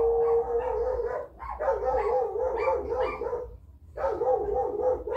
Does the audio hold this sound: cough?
no